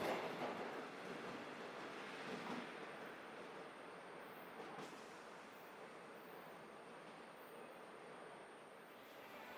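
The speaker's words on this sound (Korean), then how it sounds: "제가 열차에서 내리자마자 반대편 승강장으로 다시 연천 가는 열차가 들어옵니다." A local passenger train pulls into the opposite platform at Korean railway station, a loud continuous rumble and rolling wheel noise close by, with brief metallic screeches over the steady roar.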